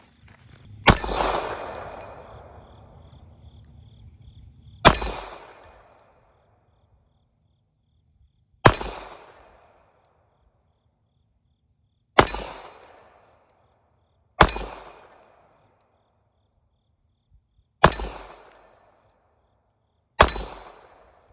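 A $499 pistol is fired at a shooting range: seven sharp, loud single shots spaced a few seconds apart, each with a short ringing decay into near silence.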